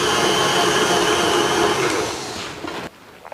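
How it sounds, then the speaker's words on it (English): A mixing machine kneading dough hums with a steady, loud whirring drone for almost three seconds, then cuts out, leaving faint rustling afterward. "I'm gonna have this machine run for another maybe 45 seconds till everything gets combined."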